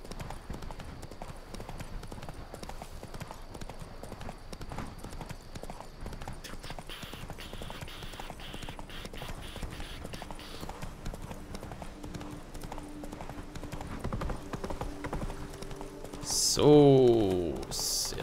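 Horse hooves clip-clop steadily through a Witcher 3 game scene, a continuous rhythmic patter under ambient game sound, with a brief louder swell of effects near the end.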